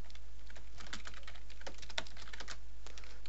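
Rapid, uneven clicking of a computer keyboard as HTML tags are typed, close and steady for a few seconds with no voices.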